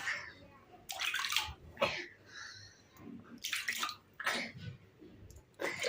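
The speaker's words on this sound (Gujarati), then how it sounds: "આમાં હાથ ધોઈ કાઢ." Tap water runs in short, loud, close bursts and splashes as a child washes hands, stopping and starting several times.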